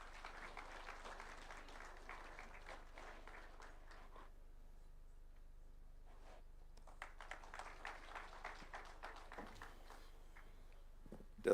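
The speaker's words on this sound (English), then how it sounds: "A round of applause, please." An audience applauds at an award ceremony, the clapping faint and distant, with one burst for about four seconds, a quiet pause, then a second burst of similar length.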